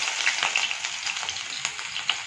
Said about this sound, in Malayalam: ഇനി നമ്മൾക്ക് ഇതിലേക്ക് കുറച്ച് സവാള ഇട്ടിട്ടൊന്ന് ഫ്രൈ ചെയ്തെടുക്കാം